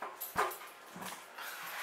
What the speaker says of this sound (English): You're a noisy puppy.